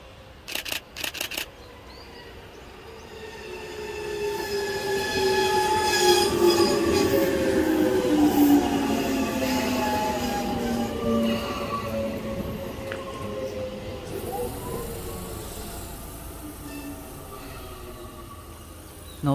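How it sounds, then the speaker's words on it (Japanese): Inbound Tobu Railway train pulling into a station, with a rumble that builds and then eases as wheels squeal and hum, a few sharp knocks at the start, heard from the platform with no talk. "上り電車がやってきましたね。"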